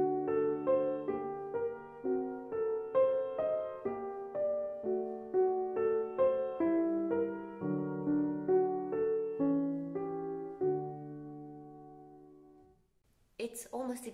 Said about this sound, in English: you might know the three-part inventions by Johann Sebastian Bach